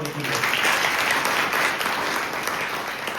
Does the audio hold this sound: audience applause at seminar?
yes